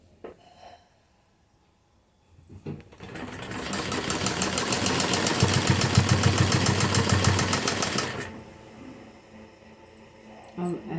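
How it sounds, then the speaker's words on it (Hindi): A sewing machine runs steadily for several seconds stitching a kurti, its fast, even needle clatter starting after a quiet pause and stopping abruptly, with faint handling noises around it. "इसके बाद हम सीधा सिलेंगे।"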